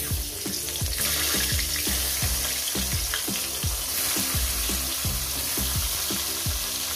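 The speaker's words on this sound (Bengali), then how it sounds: "বন্ধুরা, দেখতে পাচ্ছেন আমি কত সুন্দর করে টমেটোটা আমি ভেজে নিচ্ছি।" Tomatoes frying in a pan after eggplant for a Bengali begun bharta recipe, a constant loud sizzle with repeated scraping stirs at a regular rhythm, close up and without talk.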